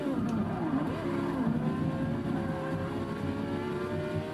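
A race car engine in Forza Motorsport 6, a Porsche sounding much like the 918 Spyder, drones and revs steadily at sustained high pitch, with tonal harmonics that rise slightly and no talking.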